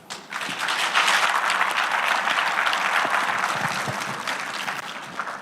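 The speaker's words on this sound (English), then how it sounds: "Once again, a huge round of applause for our speakers, everyone." A large audience applauds speakers at the commissioning ceremony of the Ukudu power plant on Guam, a dense, sustained burst of clapping that swells quickly and holds steady before easing off slightly.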